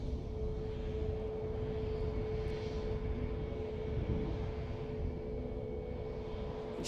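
A Boeing 767 airliner at Edinburgh airport sends out a steady, broad engine roar with a faint constant whine, heard from a distance in cold outdoor air.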